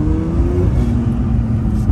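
A car engine revs hard while driving, loud and close, a steady droning roar with rising pitch that holds for two seconds with no talk over it.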